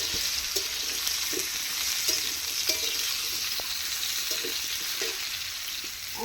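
Raw mango frying in a pan for pickle, with a continuous sizzle and light, intermittent clicks as the pieces are stirred.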